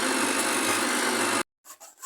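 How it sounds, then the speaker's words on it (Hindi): An electric grinder whirs loudly and steadily while blending a tomato ketchup mixture. It stops abruptly after about a second and a half, and a few faint knocks and clatters follow. "अब हम अपना बाकी का मिक्सचर भी इसमें ग्राइंड कर लेंगे।"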